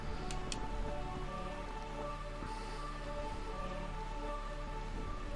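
Steady rain hisses softly in the Realm of Eternal Rain area of Final Fantasy IX, a faint, unbroken wash with a low hum beneath it and no talking.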